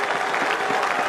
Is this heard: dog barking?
no